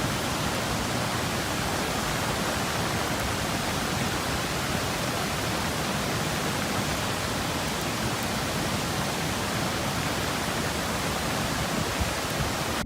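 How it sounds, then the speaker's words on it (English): Rainbow Falls in flood after relentless hurricane rains, the waterfall turned into a raging torrent that roars as a dense, unbroken hiss of loud rushing water, constant and close, with no voices. "the normally calm and picturesque waterfall had transformed into a raging torrent"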